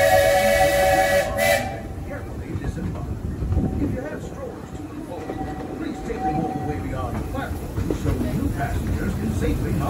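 Walt Disney World Railroad steam train arriving at the station, with a brief whistle blast near the start followed by rumbling wheels and clatter mixed with crowd noise and a voice speaking.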